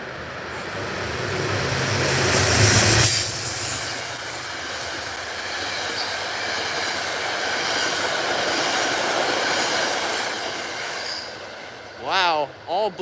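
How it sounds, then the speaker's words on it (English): Commuter train led by a P32AC diesel locomotive passing at Fordham: a close, loud rush of rolling wheels and rail noise with squealing wheels, swelling and fading over thirteen seconds, ending with a brief rising-falling squeal. "Looks like we have a P32 AC leading this contest. This is diesel number 1."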